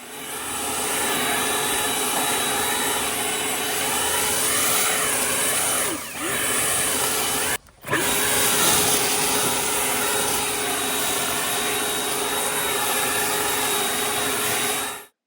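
An Ego Commercial LBPX8006 battery leaf blower clearing leaves off a tarred driveway roars with a steady, loud whooshing drone and a high whine, dipping briefly and cutting out for a moment midway before resuming at full blast.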